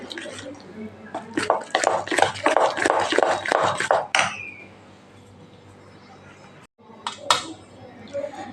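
Vati dal dhokla batter beaten in one direction in a bowl gives a quick run of rhythmic spoon clinks and slaps. It stops abruptly, then a quiet pause follows with a voice talking nearby.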